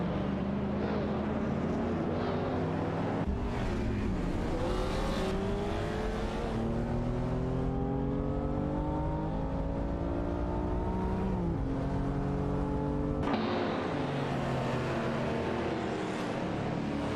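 Racing video game cars, including a Toyota Celica Supra, scream past with loud engine whines that climb and fall through gear changes, several overlapping revving tones with abrupt shifts, continuous and close throughout.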